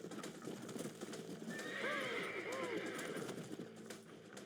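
A horse in the video game Red Dead Redemption whinnies with a rising-and-falling neigh over steady clip-clop of hooves, with someone talking throughout.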